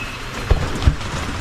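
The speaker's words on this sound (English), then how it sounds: "we just got a little bit of rain." Light rain falls outdoors during a Kansas weekend, making a soft, even patter with two dull thumps close by and no one talking.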